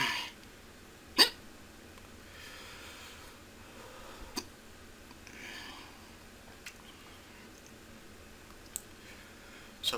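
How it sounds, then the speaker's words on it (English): A person hiccups after eating a Moruga Scorpion pepper, a few sharp isolated jolts spaced several seconds apart over near silence, one louder than the rest. "Seems like the harder I try to hold back the hiccups, the harder they come."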